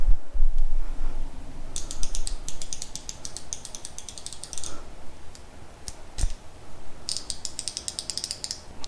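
A Tekton Comfort Grip 90-tooth ratchet worked back and forth, producing rapid bursts of fine, close clicking separated by brief pauses and soft handling noise.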